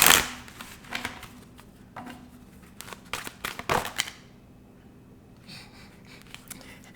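Tarot cards being shuffled close by, bursts of riffling and soft slapping in quick rhythm, then a quiet pause with faint handling noise.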